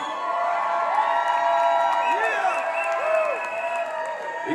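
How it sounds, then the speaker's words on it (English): An awards presentation audience claps, cheers and whoops for the event's organizer, with swooping whistles and shouts over steady applause, moderately loud and sustained. "Give him a round of applause."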